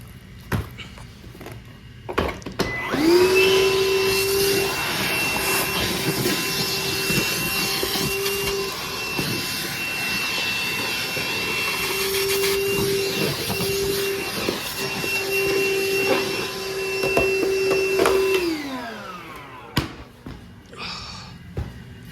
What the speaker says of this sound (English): vacuums in the business, there's a bit of dirt on the floor